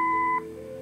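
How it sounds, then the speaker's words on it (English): Answering machine beep in the Kathy Rain Director's Cut video game: one short, steady electronic tone lasting under half a second, then a low hum. "Leave a message after the beep."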